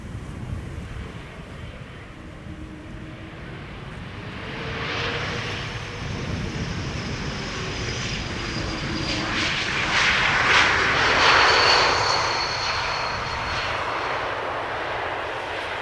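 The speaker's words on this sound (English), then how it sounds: "airplane coming in is an E2 Embraer 195 arriving from Edinburgh" A KLM Embraer E195-E2 jet, a year old, arrives at Amsterdam Schiphol Airport with a steady engine roar that swells as it passes close by and then slowly fades, with no talking.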